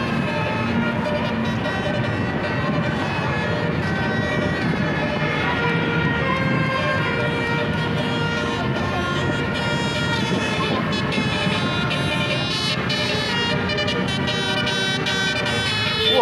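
A loud, continuous bus musical air horn sounds a melodic, tonal tune with layered harmonics during a bus convoy, over steady traffic noise and crowd chatter.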